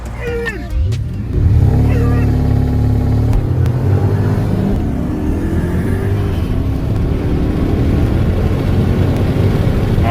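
A Porsche Panamera Turbo with catless downpipes roars as it accelerates hard against a modified BMW M550, a loud sustained engine drone heard from inside the car, rising through gear changes.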